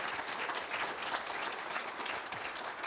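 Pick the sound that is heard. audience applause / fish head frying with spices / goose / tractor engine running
audience applause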